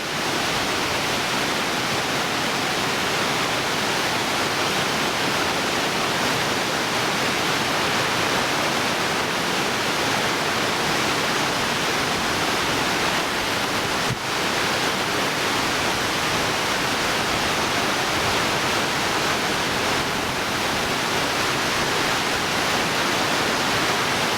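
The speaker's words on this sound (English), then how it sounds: "And the water comes through a sluice here" Water of the River Bain rushes steadily through a sluice at a hydro-electric scheme in Bainbridge, a loud, constant broadband roar that holds unbroken the whole time with no voices.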